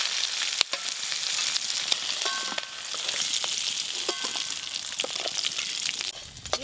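Shrimp and crab frying in hot oil, seasoned with salt and turmeric, give off a steady, dense sizzle with occasional crackles and pops throughout.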